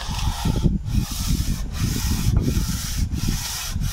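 Steady back-and-forth hand sanding of a cylinder head with sandpaper, metal surface, close and continuous, with brief pauses between strokes.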